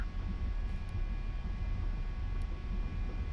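Military aircraft engines in the DCS flight simulator rumble low and steady during the takeoff roll, a close, continuous droning hum with no talk over it.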